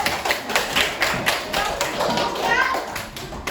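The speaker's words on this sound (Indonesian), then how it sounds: "kasih tepuk tangan dulu" A group of children clapping hands together in a classroom setting, brisk scattered claps with taps and thumps, mixed with children's voices and chatter.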